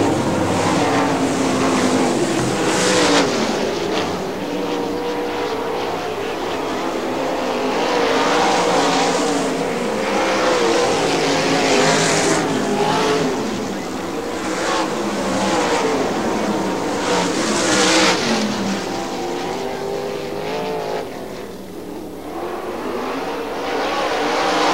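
410 sprint cars roar around Butler Motor Speedway on the final lap of a heat race, engines loud and close with pitch surging and fading as the cars pass, no talk over them.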